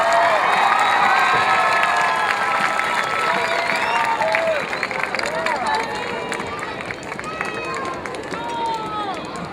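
A graduation crowd for the Edcouch-Elsa Class of 2013 bursts into loud, sustained applause with cheering, whoops and shouting children, a dense wash of clapping that slowly eases over several seconds.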